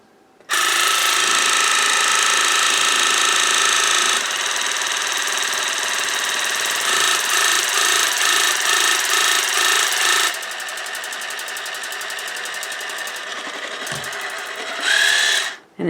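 A Nicwell smart oral irrigator runs close by with a loud, steady motorized buzz and pump rattle that shifts in character as it switches between modes, then stops briefly near the end.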